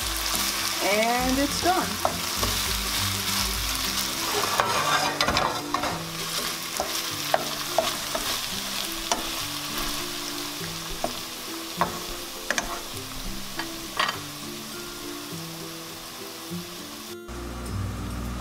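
Peppers fry in a pan while a Habesha dish cooks, giving a steady sizzle over about eighteen seconds. Frequent scraping stirs and clicks of a utensil cut through it, and a voice speaks briefly near the end.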